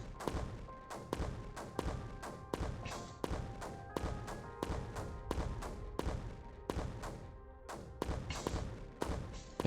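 Mortars firing in the Creeper World 4 video game produce a rapid, steady series of dull thumping shots, one after another for about ten seconds, fairly quiet.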